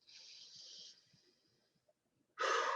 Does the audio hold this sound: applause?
no